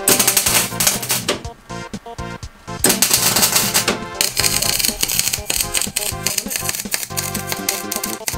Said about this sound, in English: welding the wedgelets